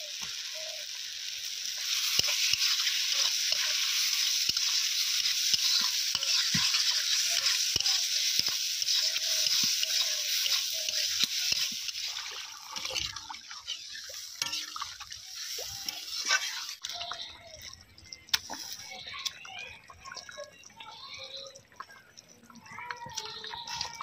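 Potatoes frying in a pan with ground turmeric, a steady loud hiss and sizzle with scattered clicks of stirring throughout, the sizzle thinning near the end.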